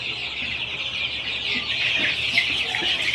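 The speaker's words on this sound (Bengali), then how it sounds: "সেই কাঙ্ক্ষিত ফার্মি মুরগি এখানে রয়েছে।" A dense, steady chorus of high chirping from around 250 month-old Fayoumi chicken chicks crowded together on a farm in Ullapara, Sirajganj, continuous and close with no talk.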